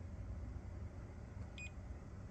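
A wire tester beeps once briefly while probing the positive wire of a car radio harness during a Toyota RAV4 radio install, a short bright tone over a steady low hum.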